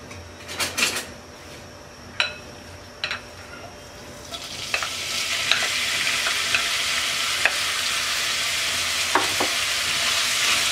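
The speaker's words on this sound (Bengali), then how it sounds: "তেলটা গরম হয়ে গেছে, দিয়ে দিচ্ছি কিমা।" Beef mince dropped into hot oil in a wok: a few utensil clinks, then a loud, steady sizzle starting about four seconds in and continuing, with occasional stirring taps.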